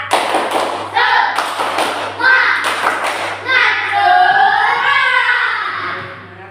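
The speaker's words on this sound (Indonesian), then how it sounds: "Sebelum nonton video tepuk semangatnya mana? Tepuk semangat." Young children in a classroom perform a rhythmic spirit clap, sharp grouped bursts of hand claps in a set pattern, followed by the children chanting together in unison.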